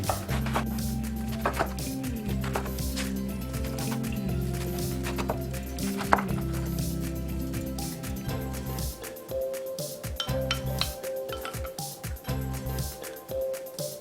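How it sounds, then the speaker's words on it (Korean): A knife chops soaked seaweed (miyeok) into small pieces on a cutting board for fish seaweed soup, making repeated close taps and thuds over a low background hum. "그럼 먹기 좋은 크기로 송송 썰어줄게요."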